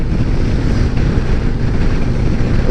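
A 2024 Harley-Davidson Road Glide motorcycle underway, heard as loud, steady wind buffeting roaring against the microphone, dense and low, with no voice over it.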